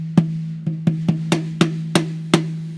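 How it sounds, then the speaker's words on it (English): Eight dry snare drum strikes with the snare wires disengaged ring out alone at an uneven, unhurried pace, each a sharp crack with a short ringing tone and no rattle. "the snare with the snare wires disengaged, so the lever off sounds like this."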